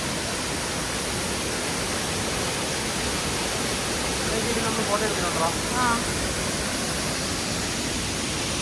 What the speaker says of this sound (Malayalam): ആ വാട്ടർഫോൾസ് കാണിച്ചു കൊടുക്കാം